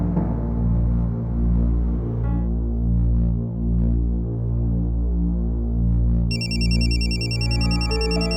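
A telephone rings in a night-time scene from a Hindi TV drama, with a loud steady electronic hum throbbing underneath and a bright repeating ring tone entering near the end.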